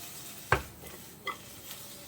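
Paneer gently mixed with butter and ground black pepper in a pan for veg pulao, two distinct spoon taps against the pan over a soft background sizzle, quiet and close.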